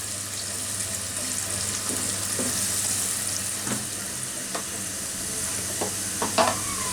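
About a cup of chopped onions sizzles in a pan for a beef curry, a steady close hiss broken by scraping stirs and occasional light clatters of the utensil.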